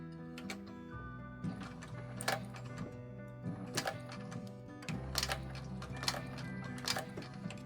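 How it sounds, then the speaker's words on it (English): A sewing machine stitching piping onto handbag fabric, quiet bursts of rapid ticking stitches that stop and restart several times, close and fairly faint. "You're going to go ahead and just sew it off so that it's secured in place."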